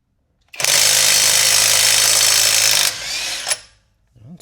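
A generic impact wrench hammers on a car's lug nut in one loud burst of about two and a half seconds, then trails off and stops.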